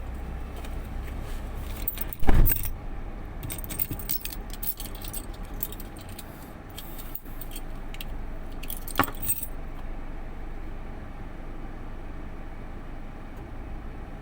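A bunch of keys jangles near a motorbike in two sharp, close bursts, one loud and one softer, over a low background rumble of traffic.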